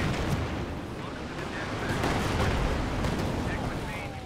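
An incendiary artillery strike rumbles and crackles in Company of Heroes 2, a dense, continuous roar of fire and distant explosions with scattered gunfire, steady and loud throughout.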